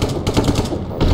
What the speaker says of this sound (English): Oh, you can hear all the guns.